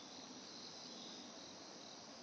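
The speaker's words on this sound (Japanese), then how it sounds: "セミやこれ、もうほらもういっぱいおるな" Cicadas drone in a green onion field, a dense, steady, continuous insect buzz filling the whole stretch at a faint, even level with no talk.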